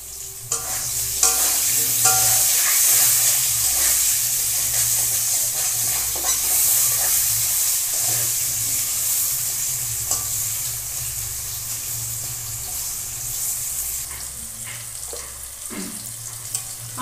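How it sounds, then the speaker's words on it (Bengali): Potatoes seasoned with salt and turmeric fry in hot oil, giving a steady, loud sizzle with scattered stirring scrapes and clinks throughout, no voices. "আলুগুলো লাল লাল করে ভেজে নেব।"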